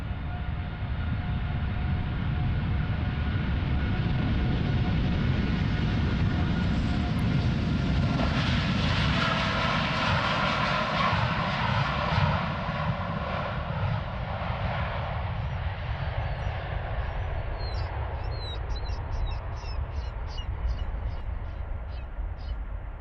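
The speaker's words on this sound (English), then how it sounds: "we have this Dreamliner from American Airlines" An American Airlines Boeing 787 Dreamliner departs Amsterdam Schiphol, its jet engines a loud, steady roar that swells in the middle and then slowly fades as it climbs away, with a voice speaking faintly in the background.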